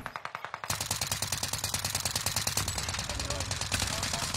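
Rapid automatic gunfire in Call of Duty Warzone, a long unbroken stream of evenly spaced loud shots firing steadily throughout.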